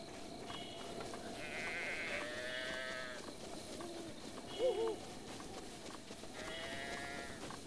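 Sheep in the Breath of the Wild game world bleat in short wavering calls, two or three spaced apart over a steady ambient background, with a brief chirping bird-like sound in the middle.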